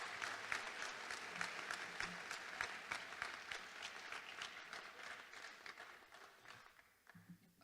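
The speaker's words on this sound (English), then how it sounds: "Let's just give all those people a quick applause." Audience applause for coaches, parents and staff at a spring school athletics awards ceremony, steady dense clapping that fades toward the end.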